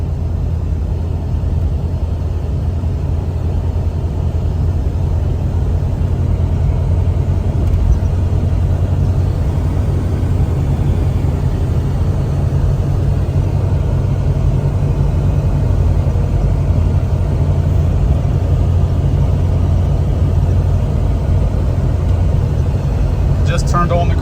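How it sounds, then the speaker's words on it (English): A restored Jeep Cherokee XJ climbs an incline on cruise control, a steady low engine drone and road rumble heard from inside the cabin, with a voice talking over it. "Just turned on the cruise control. Automatically is accelerating as we're going up the incline."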